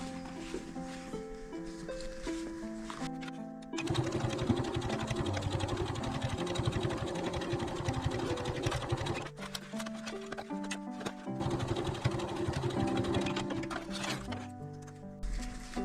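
A sewing machine edge-stitches a zipper onto a three-pocket zipper pouch, its needle running in a fast, steady mechanical rattle with short pauses where the stitching stops and restarts, close and alone.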